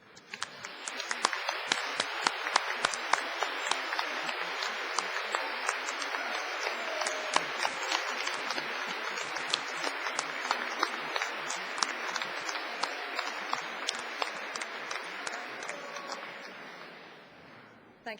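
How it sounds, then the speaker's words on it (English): Sustained applause from a graduation ceremony audience at Cardiff University, dense steady clapping throughout that fades near the end, heard alone without talk. "a great huge round of applause"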